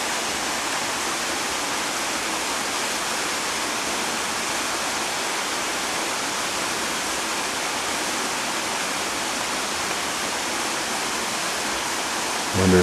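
Waterfall in a small canyon on the Mitake hike near Tokyo, a steady, dense roar of falling water that stays constant and loud throughout, with no talk over it.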